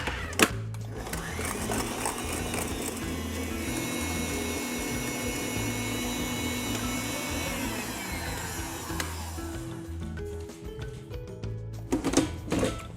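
Near and steady, an electric mixer whirs as it beats whipped egg whites with added sugar, running without a pause for about nine seconds before the motor winds down and stops with some clatter.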